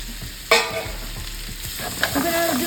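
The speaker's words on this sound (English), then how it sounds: "And because this pan is already ripping hot, we're going to immediately go in with our onions and our more greens." Onions and greens hitting a ripping-hot pan for soy glazed beef, a sudden loud sizzling burst followed by steady crackling and a couple of utensil knocks, close and without talk.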